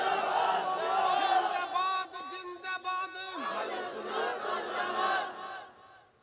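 A large crowd at an outdoor Bengali religious sermon in Chandpur shouts takbir together in loud, sustained collective cries that briefly break up and then swell again before fading at the end.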